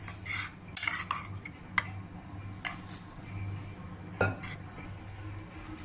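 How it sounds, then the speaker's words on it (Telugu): A spoon clinks and scrapes against a metal bowl while spice powder is stirred with a little water, producing irregular sharp taps and scraping over a faint steady hum. "కొద్దిగా వాటర్ పోసి ఇలా కలుపుకోవాలి"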